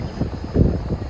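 A small E-flite Habu STS radio-controlled jet plane buzzes past, its motor whine swelling briefly to a loud peak and then easing off over about a second.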